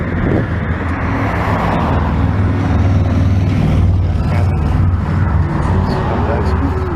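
A car with only one working headlight drives along a road at night, making a loud, steady roadway rumble while a person talks over it.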